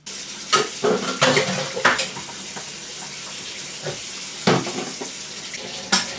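Running water at a kitchen sink mixes with the clinks and clatter of dishes being washed, close and busy, with sharp knocks scattered throughout.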